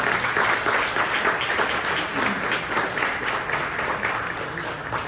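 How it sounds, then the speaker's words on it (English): An audience at an economic luncheon on mental health gives the panelists a sustained round of dense clapping that stays fairly even for several seconds before easing slightly. "Let's give them another big round of applause."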